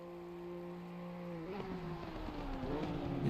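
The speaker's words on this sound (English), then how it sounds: "The awfully quiet M2s sound almost like electric cars, how quiet these things are" BMW M2 race cars on the Nürburgring, with a thin, quiet engine drone holding a steady pitch, then shifting and wavering as a car passes and the whine grows slightly louder.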